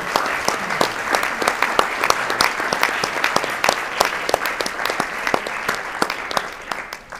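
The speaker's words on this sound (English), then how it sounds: "So give yourself a round of applause" A convention audience of Rotaract members applauds a polio fundraising milestone, steady dense clapping from a large crowd, continuous and fairly near, fading slightly at the end.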